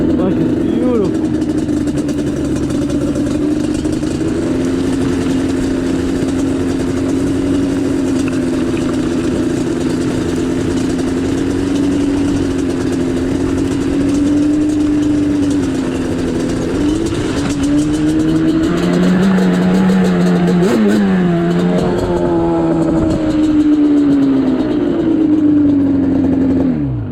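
A Yamaha Banshee two-stroke motorbike runs at a steady, loud engine drone close by, then rises and falls through several revs toward the end, with people talking over the engine.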